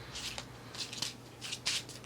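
Tarot deck being hand shuffled, giving a few short crisp riffling bursts of cards in quick succession, close and fairly quiet with no talking.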